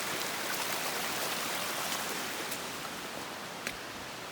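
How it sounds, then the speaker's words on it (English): Water pours off the side of a mountain in a full, continuous rushing roar, dense and steady from start to finish, with a few brighter splashy spikes. "We got some unusual waterfalls here. It's coming off the side of the mountain"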